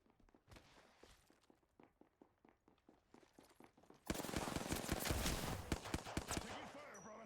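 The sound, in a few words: gunfire in a video game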